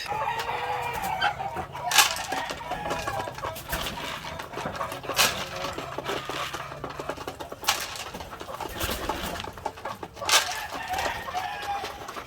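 White leghorn hens and leghorn-heritage crosses cluck steadily on a farm, with sharper squawks and calls popping out every couple of seconds over a busy flock murmur.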